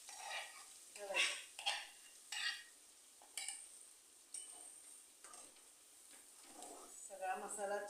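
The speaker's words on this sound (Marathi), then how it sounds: "सगळा मसाला छान भाजून घ्यायचा." Onion, ginger and garlic paste masala fries in hot oil for egg curry, with intermittent sizzling and stirring scrapes while a person talks over it.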